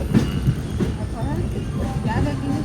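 A Kadapa–Guntakal special express train pulls into platform 5 at Guntakal station, a steady rumble of wagons with wheel squeal and faint clacking throughout, and a voice talks briefly over it.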